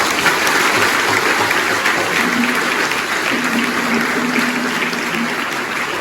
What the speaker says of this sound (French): un grand merci et vos applaudissements à notre célébrant du jour, Abbé Jacques Mény.